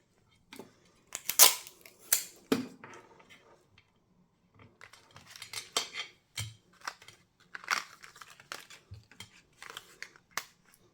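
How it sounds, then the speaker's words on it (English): A die cutting machine rolls paper through an embossing folder with a tight series of clicks, crunches and snapping pops, close and fairly quiet, with brief silent gaps between bursts. "I'm going to run them through the die cutting machine"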